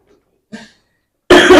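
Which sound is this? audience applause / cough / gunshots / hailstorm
cough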